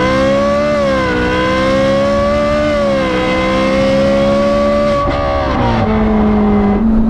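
A Novitec-tuned Ferrari SF90 Spider with a sport exhaust roars loudly and continuously nearby, its engine note rising and falling as it revs and shifts.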